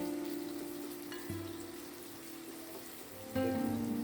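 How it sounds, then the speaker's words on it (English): Onions sautéing in a pan with a little salt and sugar give a quiet, steady frying hiss, with no talking. "Saute until the onion are golden."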